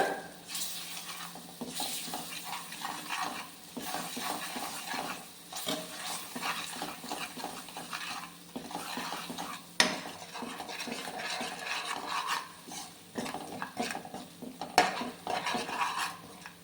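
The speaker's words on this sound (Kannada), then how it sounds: "ಇದಕ್ಕೆ ಇವಾಗ ಶುಂಠಿ ಬೆಳ್ಳುಳ್ಳಿ ಪೇಸ್ಟ್ ಹಾಕ್ಕೊತಾ ಇದ್ದೀನಿ. ಇದಿಷ್ಟನ್ನು ನೀಟಾಗಿ ಫ್ರೈ ಮಾಡ್ಕೊಳ್ಳೋಣ." Ginger garlic paste frying and being stirred in a pan, with a steady sizzle and repeated scraping of a spoon against the metal, close and continuous with no talk.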